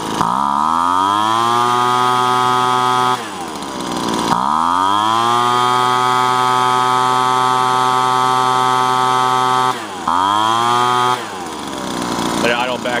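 A Sears Craftsman leaf blower's small two-stroke engine revs loud and close in long sustained bursts, with sharp drops back toward idle around the middle and end.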